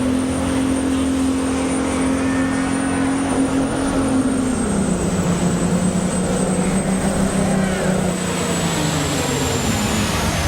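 A 1971 Brockway hot rod semi truck engine drones loud and steady while pulling a sled at a truck pull in Salem, Indiana, its pitch sagging partway through as the engine bogs under load.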